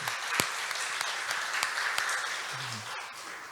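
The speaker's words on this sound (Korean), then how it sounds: "우리 주님께 영광의 박수 한번 드립시다" A church congregation gives a round of applause during a sermon, many hands clapping in a steady, dense patter that carries through, with a brief voice near the end.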